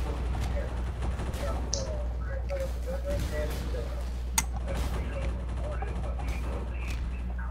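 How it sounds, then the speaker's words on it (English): Combine soldiers fire shotguns in a Half-Life 2 SMOD Outbreak game, several brief bangs scattered over steady low-end rumble and other game sounds, moderately loud, with one sharp crack standing out midway. "stop firing at me with shotguns"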